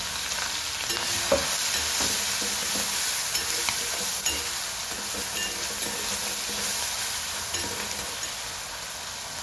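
Onion, tomato, green chillies and garlic fry in hot oil in a pan with a kokum, making a steady, fairly faint sizzle broken by occasional soft stirring clicks and scrapes, with no one speaking.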